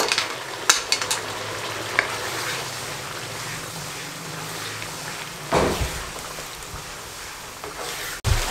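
Mutton kidney fries in a cup of cooking oil over a high flame, a dense close sizzle broken by scraping stirs and a few louder clatters of the spoon against the pan.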